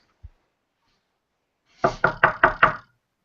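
Five hard, rapid knocks rap on a house door after a single faint thump, each sharp and close, sounding alone in near silence.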